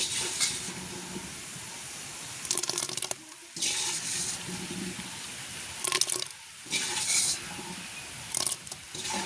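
Running water pours and splashes in bursts, as if rinsing something under a tap, in an outdoor village kitchen, with short pauses and brief clattering between the streams.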